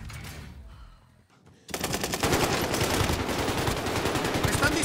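Call of Duty: Vanguard gunfire, a quiet lull giving way to loud, sustained rapid automatic shots close by, continuing without pause.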